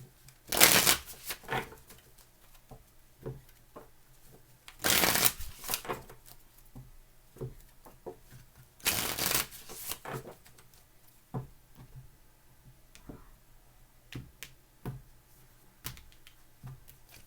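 Three bursts of cards being riffle-shuffled, each followed by soft taps and handling sounds, close and fairly quiet.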